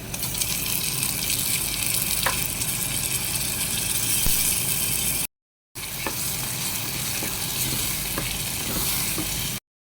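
Tomato and chili fry in a pan with a loud, dense, continuous sizzle close by, briefly cut off once midway, then resuming just as strong, with no voices.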